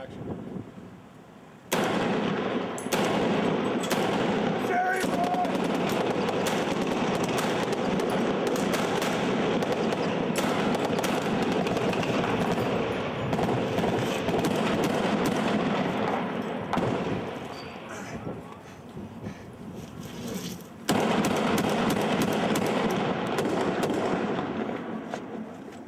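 Blank rounds fire rapidly from guns on a TV stunt set for the series 24, with dense, continuous crackling bursts sustained almost throughout, a brief lull near the start and a dip toward the end.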